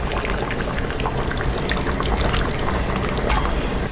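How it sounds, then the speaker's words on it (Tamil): Tamarind water pours into a simmering chickpea curry with a steady, close, uninterrupted splashing gush that holds even throughout. "இப்போ நம்ம புளி ஊற்றிக்கலாம்."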